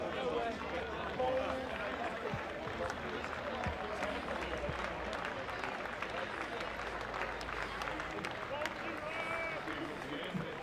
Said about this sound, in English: that round of applause you probably heard in the background was for the two lads coming out